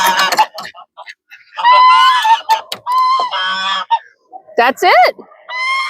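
Several Sebastopol geese being let out on a farm in the morning honk loudly and repeatedly at close range, overlapping calls in bursts, with a brief spoken remark among them.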